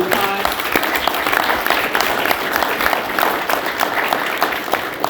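An audience at a city's State of the City address breaks into steady, fairly loud applause that fills the room evenly, with a few voices at the very start.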